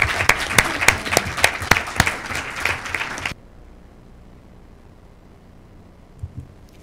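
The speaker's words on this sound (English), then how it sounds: "So let's give them all a round of applause." Round of applause for teachers at a school district board meeting: a modest room of people clapping with distinct, uneven claps for about three seconds, then an abrupt stop into near silence with a faint knock near the end.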